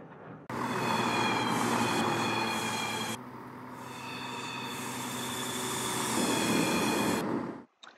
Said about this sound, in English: Welcome back to the cab of this Class 170 diesel multiple unit.